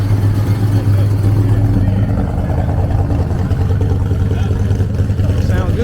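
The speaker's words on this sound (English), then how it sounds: "I like that exhaust on there." A car's aftermarket exhaust rumbles and revs at a Cars and Coffee show, a loud, deep continuous engine drone close by with voices talking over it.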